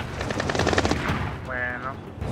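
Rapid automatic gunfire in the video game Splinter Cell Blacklist, bursts crackling loudly through the clip under game sounds and a brief voice.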